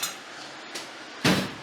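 A hammer strikes a rear suspension part on a G37/G35/370Z-type car, giving a few sharp metallic knocks, the last one loud and ringing, close by with no talk.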